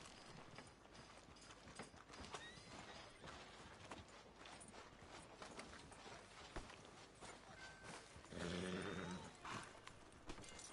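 Horse hooves clip-clopping along a town street in Red Dead Redemption 2, quiet and steady under game ambience, with a brief louder mechanical sound near the end.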